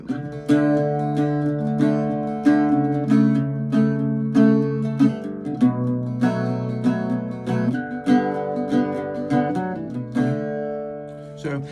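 An Irish bouzouki picks a lively jig in a lilting triple rhythm, stressing the third beat over the first, with ringing drone notes beneath, played solo and close.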